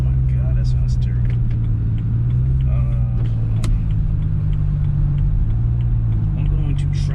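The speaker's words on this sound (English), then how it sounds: "The exhaust drone. I don't know if y'all can hear that. That don't sound good at all." A BMW E92 car's exhaust drones as a steady, loud low rumble throughout, continuous and close, with faint higher engine texture above it and no speech.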